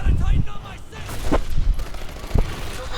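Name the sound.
gunfire from a weapon in an Xbox One video game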